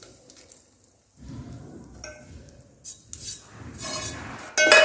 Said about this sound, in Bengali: সুজি, ঘি আর ড্রাই ফ্রুটস ভালো করে নেড়ে নেবো।